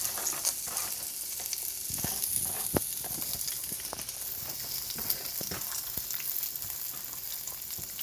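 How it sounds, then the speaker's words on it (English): Onions fry with minced meat in hot oil, a close, even sizzle broken by scattered sharp pops and crackles, with no one speaking. "I'm going to add some onions to this."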